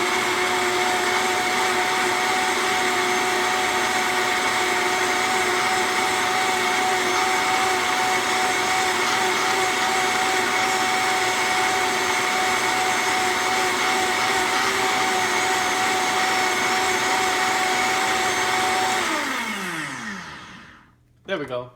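A Vitamix 7500 blender self-cleans with soapy water, giving a loud, steady motor roar that holds for about nineteen seconds. It then winds down to a stop, and a short clatter follows at the end.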